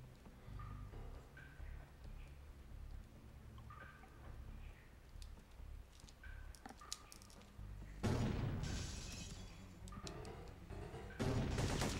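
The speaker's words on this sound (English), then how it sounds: "I'm just going to use the M79 on them and just wipe them out in 3 shots" Syphon Filter 3 gameplay as an M79 grenade launcher fires at guards: scattered sharp game shots and effects early on, then two loud, broad blasts near the end, heavy and close, with no talk.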